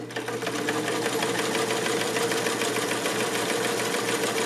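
Vintage Cool Blue Sovereign sewing machine running steadily while stitching fabric, a close, continuous rapid mechanical whir and clatter with an even rhythmic pulse throughout.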